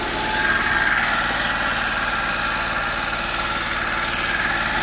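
A Daewoo Matiz engine idles steadily at abnormally high revs, a high, buzzing pitch, a constant close whir with no talking.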